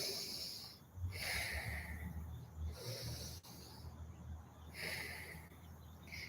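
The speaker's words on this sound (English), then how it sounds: "Big inhales, big exhales." Slow, deep breaths during a yoga therapy session, big airy inhales and exhales alternating in long steady cycles, close and soft with no talking.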